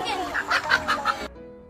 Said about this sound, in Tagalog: Daming manok eh.